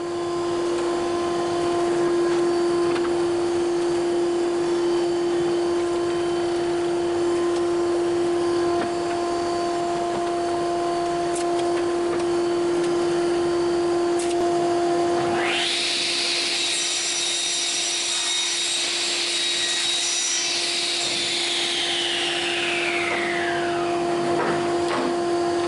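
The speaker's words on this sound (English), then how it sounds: "Then I put the crosscut fence back and cut the piece to length." A power saw on a crosscut fence in a woodshop slices a wooden piece to length, a loud rising whine with cutting noise over a steady motor hum, then spinning down.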